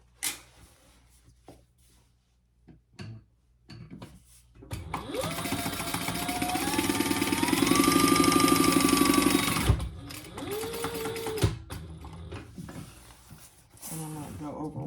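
An electric sewing machine stitches fabric for a pocket in one long, steady whirring run lasting several seconds, close and fairly loud, then a shorter burst follows after a pause, with soft handling clicks around it.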